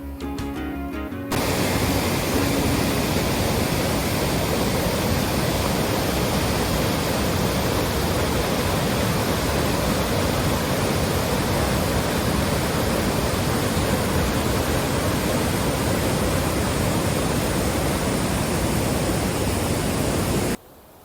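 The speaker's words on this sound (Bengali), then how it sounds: "3 লেয়ার ওয়াটারফলও বলে" Constant rushing roar of water from a three-tier waterfall near Dhanbad, loud and uniform, heard alone without voices.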